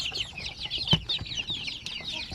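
Native chicken chicks peep with high, busy chirping that runs continuously at moderate volume, with a soft thump and scattered clucks mixed in.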